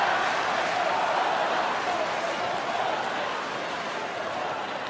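A tennis crowd at the 2015 Australian Open semifinal between Djokovic and Federer cheers and roars for Federer, a dense sustained wash of many voices that slowly fades over a few seconds.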